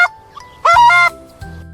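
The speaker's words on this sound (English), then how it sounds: "Turkey." A farm turkey call comes through as a short, loud honking burst near the middle, standing alone after a quiet start, followed by a low rumbling tail.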